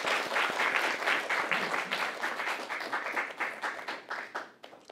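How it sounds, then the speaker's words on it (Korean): Audience applause fills the hall at an academic award ceremony, a steady burst of many hands clapping at moderate distance that thins out toward the end. "네, 큰 박수 부탁드리겠습니다."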